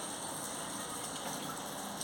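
Steady rain hisses evenly and fairly softly during an outdoor barefoot run, with no voices.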